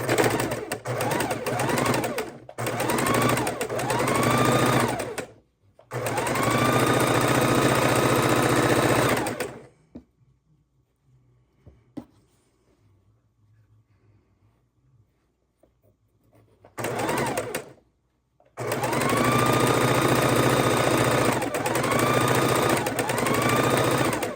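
Quilt strips are sewn together on a sewing machine in repeated loud runs of stitching, each several seconds long, separated by brief stops and one long quiet stretch of faint handling noise.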